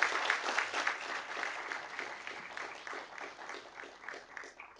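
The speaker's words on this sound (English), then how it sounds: "maybe we can just take a moment and give some applause to the families and parents who are here today" Audience at a university graduation ceremony applauds steadily for the families and parents, a soft, distant wash of many hands clapping that fades slightly toward the end.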